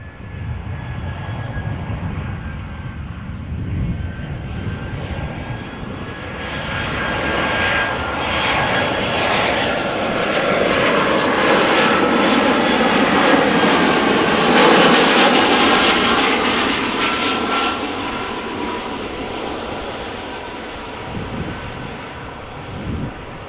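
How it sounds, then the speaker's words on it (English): An Iberia Express Airbus A320 arriving from Madrid at Amsterdam Schiphol roars past, its jet engines swelling from a distant whine to a loud, broad rush and then slowly fading over about twenty seconds. "at the moment arriving Iberia Express, indeed from Madrid. Airbus A320 left Madrid an hour and 56 minutes ago."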